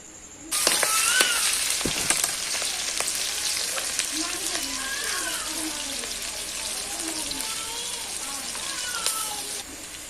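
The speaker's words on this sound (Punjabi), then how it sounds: "ਪਿਆਜ਼ ਲਸਣ ਦੀ ਹਰੀ ਮਿਰਚ ਚੰਗੀ ਤਰ੍ਹਾਂ ਫਰਾਈ ਹੋ ਰਹੇ ਨੇ" Onion, garlic and green chili frying in hot oil with cumin for a dry potato sabzi, giving a loud, continuous close-up sizzle with a voice talking over it.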